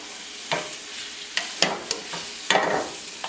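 A spoon stirs cooked eddoes with stewed pork in a pan, several scraping strokes at irregular intervals over a low sizzle, close and fairly loud, with no voices.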